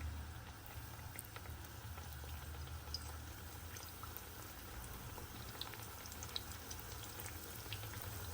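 Steady, dense crackling and sizzling of pişi dough frying in hot oil, continuous and fairly quiet throughout with no talking.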